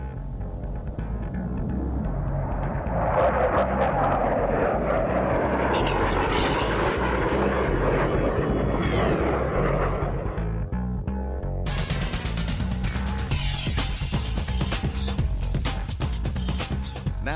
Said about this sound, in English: Watch as all four pilots perform simultaneous aileron rolls right at show center.